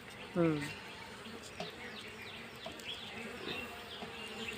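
Honey bees at a beehive during honey harvest buzz steadily and close, with a continuous droning hum and a faint voice in the background.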